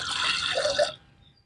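Water from a tumbler pours briefly into a pan with a splashing, filling sound that cuts off after about a second.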